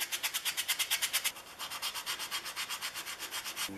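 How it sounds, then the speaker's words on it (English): Brisk rhythmic scrubbing of a sanding sponge against the aluminum of a Stanley No. A78 plane, even strokes repeating quickly, slightly softer after the first second, with no talking. "And next is the sanding sponge"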